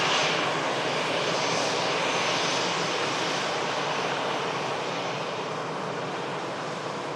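An EasyJet airliner at Manchester Airport roars steadily with engine noise, a broad, breathy jet rush holding constant and loud throughout, with no voices.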